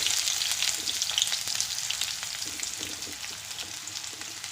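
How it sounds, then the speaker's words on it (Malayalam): Chopped onions hit hot oil left over from frying ginger, giving a bright, continuous sizzle that crackles loudly at first and then eases slightly, with faint stirring clicks and no voices. "ഇനി ആ എണ്ണയിൽ തന്നെ നമുക്ക് അരിഞ്ഞു വെച്ചിരുന്ന ഉള്ളി ഇട്ട് കൊടുക്കാം."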